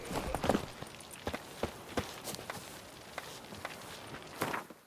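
Roach the horse galloping in The Witcher 3: sparse, irregular hoof thuds on the ground at a moderate distance, fairly quiet, with a faint rustle between the beats.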